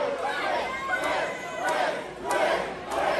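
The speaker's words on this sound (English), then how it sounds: "Split crowd here for the MCW faithful." Wrestling arena crowd at a women's match, a split audience roaring and chanting in rolling swells with recurring peaks, continuous and fairly loud throughout.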